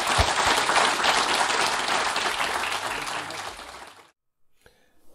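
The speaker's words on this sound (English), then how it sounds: "we'll just give another big round of applause to our speakers" An audience in a tent at an agroforestry show gives a big round of applause, dense, steady clapping that fades out after about four seconds, followed by near silence.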